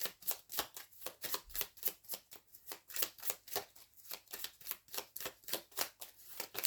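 Tarot cards are shuffled and laid down for a reading in a steady series of quick, crisp riffles and slaps, close and fairly quiet, with no voice over them.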